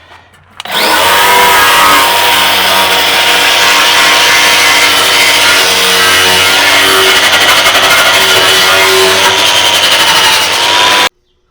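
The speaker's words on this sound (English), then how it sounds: "Let's see if the wire wheel will take the grease off of this thing." A spinning wire wheel grinds grease off a metal awning part, a loud, steady, harsh scraping whir that starts abruptly, holds continuously for about ten seconds, then cuts off.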